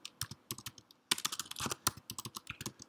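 Rapid typing on a computer keyboard, a steady run of close, crisp key clicks with short pauses and a brief burst of faster strokes, no talking.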